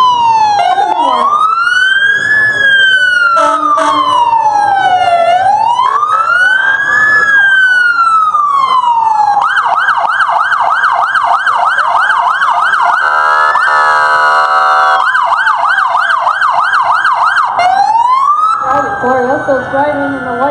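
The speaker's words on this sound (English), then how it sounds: "Glorioso's driving in the white police car" A white police car at a Labor Day parade sounds its siren loud and close, cycling through a slow rising-and-falling wail, then a fast yelp, then back to the wail.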